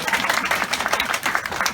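An audience breaks into brief applause, with quick, dense clapping at moderate loudness from a crowd at a live speaking event. It lasts under two seconds with no clear voices over it.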